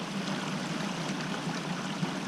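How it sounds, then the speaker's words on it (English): Water running steadily through a garden hose to flush a Camco Rhino heavy-duty 36-gallon portable RV waste tank, a continuous broadband rushing hiss with no breaks. "I ran a little bit of water in the water hose to flush"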